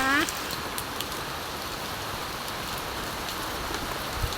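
Heavy rain pours steadily onto an open, uncovered cactus garden, a dense continuous hiss of drops on surfaces with a brief whistle-like sound at the very start.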